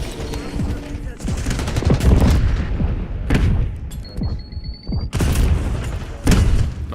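Heavy grenade blasts boom through a competitive shooter match at a tournament watch party, layered with rapid gunfire and repeated loud bursts in a dense, continuous barrage.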